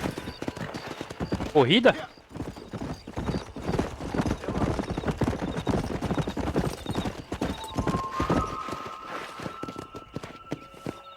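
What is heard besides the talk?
horse galloping, clip-clop hooves, from video game Red Dead Redemption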